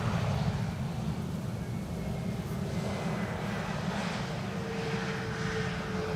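Air Baltic airliner arriving at Amsterdam Schiphol's Polderbaan runway 18R, a steady broad jet roar at moderate distance, continuous over a low rumble with no voices.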